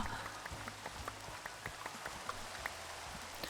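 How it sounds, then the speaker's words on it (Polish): Rain in the Minecraft video game falls steadily as a soft hiss dotted with faint pattering drops, quiet and continuous with no voices present. "Wyłącz deszcz."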